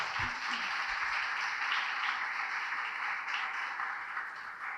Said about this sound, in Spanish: Denle un fuerte aplauso al Señor si usted está creyendo.